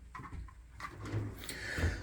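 A drawer on a Husky toolbox slides open or shut with a short series of scraping, rolling clatters that grow louder toward the end, close and alone.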